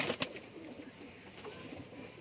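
Pigeons for sale, including a Rampuri pair, coo softly nearby amid faint background noise, with a brief flutter-like burst near the start.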